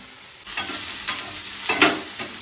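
Vegetables frying in about a tablespoon of oil in a home kitchen pan, a steady sizzle with a few scraping stirs of a spatula.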